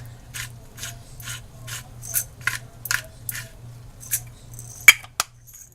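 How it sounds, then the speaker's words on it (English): A hand spice grinder turns in short scratchy bursts, about a dozen dry grinding crunches with a sharp click near the end, close and fairly loud over a low hum. "as you all know, I hate this grinder."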